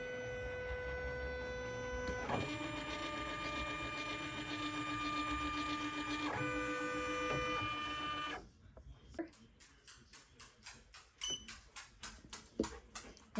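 A home embroidery machine traces the outline of a Mardi Gras appliqué design on a sweatshirt, first as a steady whirring motor drone with a few soft steps, then as a quicker series of sharp mechanical clicks and taps.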